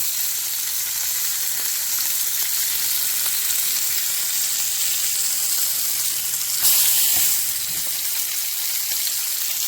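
Meat searing in a hot pan while dinner is cooked for a family: a steady, close sizzle runs throughout, briefly swelling louder near the end.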